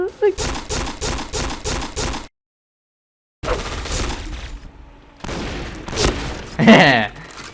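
M1887 shotgun blasting in a first-person shooter video game: a rapid string of punchy, evenly spaced shots, a sudden silent gap, then more heavy blasts and impacts.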